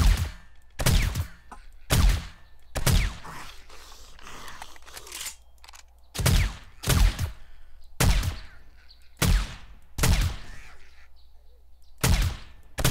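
Single heavy gunshots ring out in the survival video game 7 Days to Die, fired at slow, irregular intervals about a second apart, each a sharp, loud crack with a short tail and no talking.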